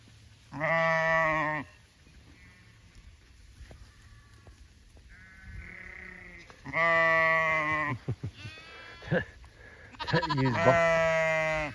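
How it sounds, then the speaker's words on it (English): A ewe sheep bleats loudly and repeatedly for her lamb, several long wavering calls spaced across the stretch with quieter pauses between, close by on a farm pasture. "She's bawling for her lamb."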